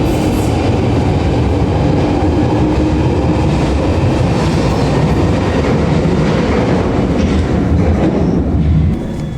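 A London Underground Bakerloo line train runs loud and close, a continuous rattling roar of wheels on track with rhythmic clatter, and no voices.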